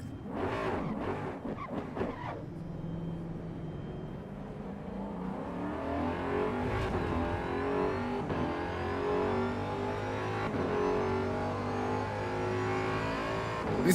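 An Assetto Corsa EVO race car engine revs steadily in a video game and climbs in pitch through the gears. A few short bursts come early, then a sustained, rising drone follows. There is no talk.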